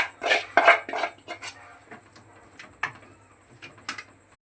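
Ladle stirring through gongura chicken pickle in a metal pot, with a few clinking scrapes and knocks near the start, then lighter scattered taps fading out.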